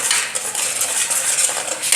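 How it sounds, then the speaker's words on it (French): Hibiscus paste stirred in a pot over the heat, a steady close scraping and swishing of a utensil against the pot with faint sizzling, continuous for the whole stretch with no voices. "On remue un peu."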